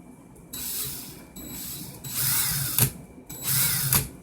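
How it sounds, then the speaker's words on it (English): Cordless drill running in reverse while twisting Clapton coil wire for a Peerless RDA build, giving short whirring bursts in several spurts with a ratcheting mechanical rasp, close and moderately loud, no talk. "So I got my drill in reverse. I'm holding the Clapton while my drill reverses."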